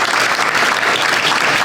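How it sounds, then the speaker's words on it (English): An audience at an award ceremony during a leaders' conference breaks into a round of applause, a dense, continuous wash of many hands clapping at close range. "I just want to give her a shout out and a round of applause"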